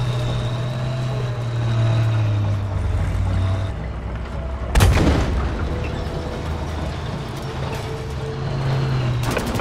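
In Battlefield V's 1945 Rhineland "The Last Tiger" mission, a rocket tank's single loud blast cuts through the low drone of tank engines and mechanical rumble midway.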